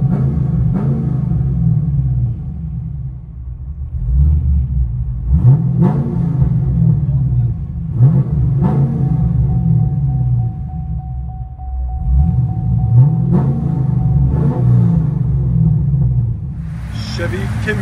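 A cammed Chevy Camaro SS with a 6.2L V8, headers and a Spintech 9000 exhaust, heard from inside the car: a deep lumpy idle rumble broken by several sharp throttle blips and revs, loud and close.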